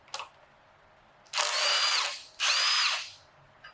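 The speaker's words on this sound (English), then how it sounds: "Let's go ahead and zing this off." Two loud, close bursts of a high-pitched power tool whirring, each about a second long, separated by a short pause after a brief click, removing a cam bolt from a K24 engine.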